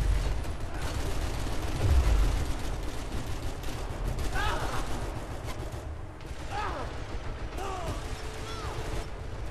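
Gunfire rattles through a Max Payne 3 firefight, dense bursts and clanking mechanisms running steadily under a voice talking over the action.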